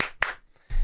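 A double clap meant to trigger a Clapper sound-activated switch, heard as two sharp hand claps close together and up close, with a few soft taps and then a low rumbling noise following.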